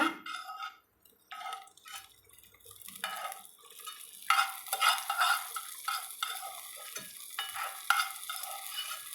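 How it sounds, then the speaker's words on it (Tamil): Milk poured into a hot pan of roasted ingredients for an offering sweet, a splashing, sizzling rush followed by repeated stirring scrapes and clinks, close and moderately loud, with no talking. "இப்போ நம்ம திரும்ப இந்த பால் எடுத்து அடுப்பில் வச்சுட்டு உள்ளே கொட்டிக்கலாங்க"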